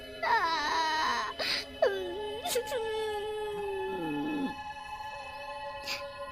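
A high, wavering wail like a woman crying, rising and falling in long drawn-out sobs, fairly close and trailing off into quiet.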